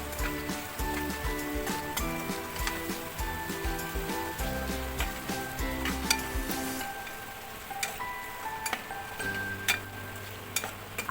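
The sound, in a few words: garam masala, red chili powder and turmeric frying in pan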